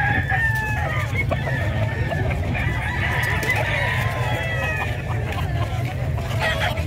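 A rooster crows amid the steady hubbub of a livestock market in San Carlos City, Pangasinan, with constant crowd noise, murmuring voices and other poultry calls layered throughout.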